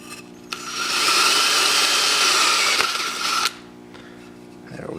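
A tool grinds and chips steadily into the middle of a soft firebrick for a propane forge build, one continuous loud, close burst of about three seconds that then stops abruptly, leaving quiet background.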